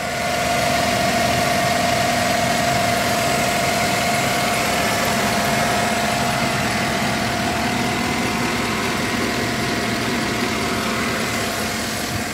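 A 2013 Chevy Tahoe PPV engine idles evenly throughout, a constant low rumble with a faint whine, no voices and no change in pitch.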